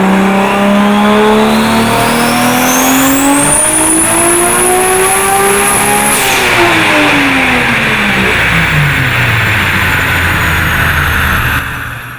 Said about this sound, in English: when there's a turbo car on a dyno and it starts building boost, and then you get this sound